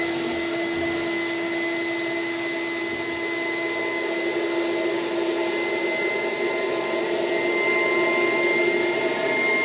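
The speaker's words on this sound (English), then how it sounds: "So now we're going to suck the fluid out. It's going to go through the filter into the tank." Battery-powered Sump Shark SD15 pump sucking coolant out through a filter into its tank, a steady loud whining drone with constant tonal hum that stays even throughout, no voices.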